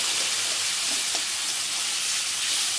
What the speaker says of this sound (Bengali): টমেটোটাকে লাল একটু ভেজে নেবো